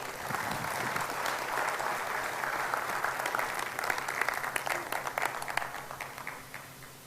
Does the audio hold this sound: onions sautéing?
no